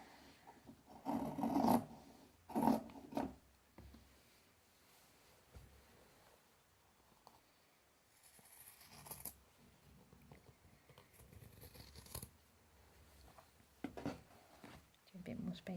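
Scissors trim fabric beside the stitching of a machine-stitched notebook cover, giving soft, close rasping snips in short clusters separated by quiet stretches.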